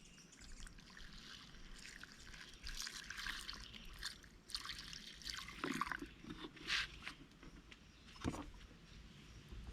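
Water trickles and splashes in uneven bursts into a rock tumbler drum over stones and polish, a close, steady pour with brief louder gushes and small drips.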